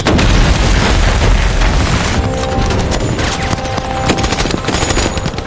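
Dense gunfire and explosions from a dramatized nighttime attack on a CIA outpost, with heavy booms followed by rapid bursts of automatic fire, loud and continuous.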